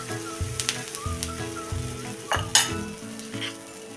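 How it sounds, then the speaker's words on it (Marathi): Bajra flour uttapam batter hissing on a hot pan as a spoon spreads it thick, a continuous close sizzle with scraping strokes and occasional sharp taps of the spoon on the pan. "त्याच्यावर आता हे चमच्यानं पीठ सोडून हा जाडसर उत्तप्पा आपण पसरून घ्यायचा"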